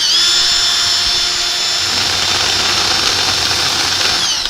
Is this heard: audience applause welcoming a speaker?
no